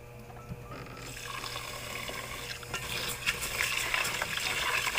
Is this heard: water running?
yes